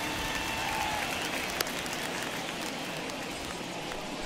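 Steady rain falls on a baseball field in MLB The Show 21 during a Phillies at Rockies game, a constant broadband hiss with a brief sharp tick near the middle and no talk over it.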